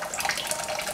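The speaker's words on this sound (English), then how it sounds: "You have cold water and cold running water." Cold water runs steadily from a kitchen tap, a continuous close hiss and splash lasting the whole moment, with no voices over it.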